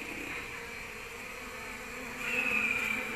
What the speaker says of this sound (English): She's going to butt this bee.